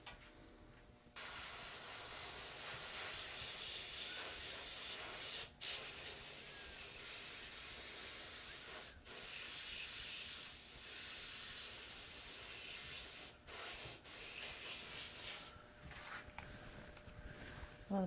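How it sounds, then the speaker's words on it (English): Airbrush spraying face paint, a steady close hiss of air and paint running almost continuously, with a few brief pauses where the trigger is released. "You want to be careful when airbrushing the face that you don't get the airbrush too close up to the lips"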